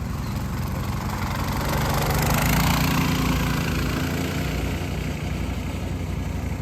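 A Coleman KT196 go-kart engine runs steadily nearby, giving a loud, even droning hum with no pauses across the whole stretch.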